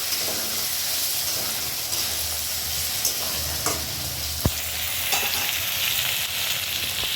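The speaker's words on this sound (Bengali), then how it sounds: "এই তরকারিটা একটু ভেজে নেব" Vegetable curry sizzles and fries steadily in a pan, a continuous close hiss with a few sharp clinks and stirring knocks scattered through.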